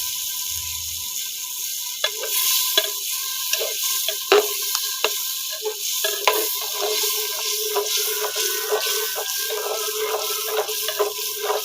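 Potatoes and peas are stirred in a frying pan, with a steady sizzle and repeated scraping, clacking strokes of a utensil against the pan throughout, close and fairly loud, with no talking.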